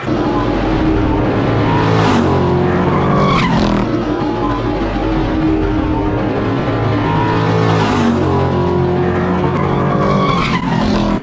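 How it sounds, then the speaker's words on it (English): A super stock race car at New Smyrna Speedway runs at speed, and a long tire squeal and skid rise over loud engine roar and crowd-like noise as it makes contact and slides into the wall. "Oh, no contact, and there goes Bobby Holly. Into the wall, and he missed the cone."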